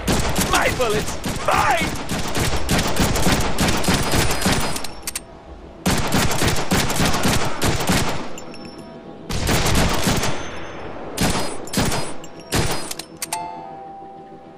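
Rapid gunfire from the Deadpool video game on Xbox, dense loud bursts of shots in several stretches separated by short pauses, with a voice briefly speaking over it.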